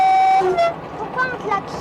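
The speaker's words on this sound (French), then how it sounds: "il est prévu de klaxonner à la queue d'un train" A train horn sounded by the driver of a French locomotive in 1979, a bright steady toot in the first half second, then fading under a man's speech.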